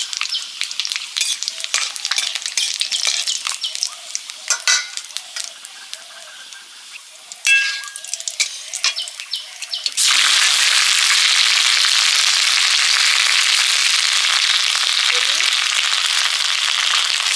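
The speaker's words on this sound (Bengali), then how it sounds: "তেল দিয়ে ফোড়নে দিলাম শুকনো লঙ্কা, তেজপাতা, পাঁচ ফোড়ন" Dry red chillies, bay leaf and panch phoron tempering in hot oil: light clinks and clattering at first, then a loud, steady, close sizzle that fills the rest of the clip.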